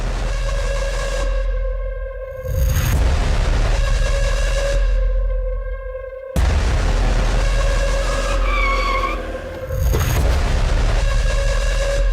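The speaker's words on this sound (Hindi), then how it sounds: "ड्राइवर, गाड़ी का पीछा करो।" Car chase with a driver tailing another car: loud, continuous engine roar and rushing road noise with heavy booming low end, surging in waves with sharp whooshing passes, dramatic music-like tones layered throughout.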